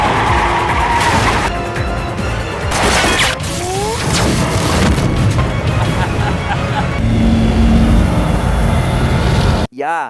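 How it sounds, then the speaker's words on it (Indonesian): A fuel truck is shot and blows up in a film scene, with loud continuous roaring, booming blasts and screeching metal, heavy rumble throughout and a sudden cut near the end. "ia dengan sengaja menembak truk yang membawa bahan bakar bermaksud untuk meledakannya"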